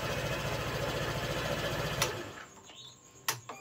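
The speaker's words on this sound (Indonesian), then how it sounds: "Kita untuk sementara kita jumper saja dan starter sekarang sudah menyala." A Honda PCX scooter engine runs steadily with a fast mechanical chatter after a faulty starter switch is bypassed, then cuts off abruptly, leaving a few clicks and knocks.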